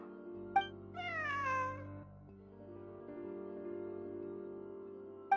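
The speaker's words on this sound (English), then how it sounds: "Wait, where did you get the cat?" A cat meows in Genshin Impact, one drawn-out, rising and falling meow near the start over a steady game music bed, with short clicks at either end.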